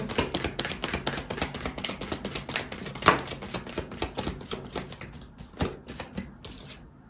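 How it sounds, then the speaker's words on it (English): Tarot cards are shuffled by hand in quick, repeated riffling clacks, close and crisp, keeping a fairly even rhythm throughout before thinning out near the end. "I'm going to keep shuffling though."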